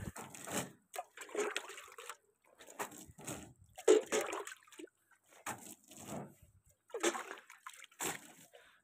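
Water splashing in repeated bursts while washing vehicles, like buckets or hose spray thrown against a surface, with short pauses between each splash.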